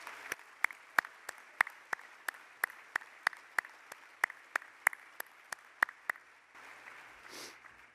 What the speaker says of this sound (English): Let's give them all a round of applause for this year's board.